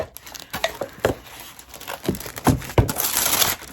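Cardboard and plastic packaging crinkle and tear as a quilt fabric subscription box of precut fabrics is opened. The rustling comes in close, uneven bursts with sharp rips and crumples and no talk.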